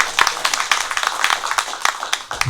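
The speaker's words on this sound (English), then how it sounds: "How about another round of applause?" Applause from an outdoor crowd at a cemetery commemorative ceremony rededicating a historic GAR Civil War site, a dense steady patter of many hands clapping for a couple of seconds.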